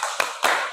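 Two sharp group claps in a classroom setting, part of a rhythmic clap chant led by a teacher, crisp and close with a short gap between them.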